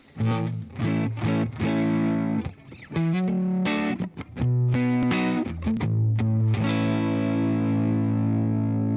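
Electric guitar through a Blues Driver into a Timmy overdrive pedal and a '65 Deluxe Reverb Blonde Edition amp, playing chords and single notes with a gritty, slightly broken-up tone, loud and continuous with brief pauses between phrases.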